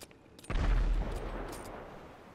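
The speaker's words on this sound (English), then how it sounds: "Are they shooting rockets over here?" Video-game gunfire and rocket blasts in Grand Theft Auto: a sudden loud burst of shooting with a heavy boom, then a dense, rumbling volley that slowly fades.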